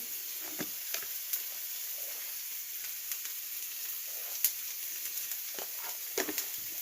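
Turmeric and chilli powder spices sizzle and fry in a pan, a soft steady hiss with occasional faint scrapes and clicks of stirring; no one talks.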